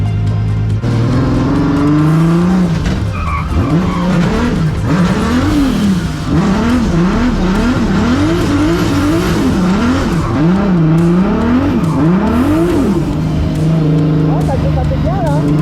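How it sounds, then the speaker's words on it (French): Drift car on a D1NZ circuit warming its tires, engine revving in rapid rhythmic bursts with squealing tires, loud and close from onboard, with someone talking throughout. "on va faire chauffer les pneus"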